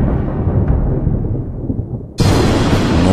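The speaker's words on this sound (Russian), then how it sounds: "Но вот послышался страшный гром." A loud, deep rumble of thunder rolls and slowly fades, then a sudden crash of thunder breaks in and keeps roaring to the end.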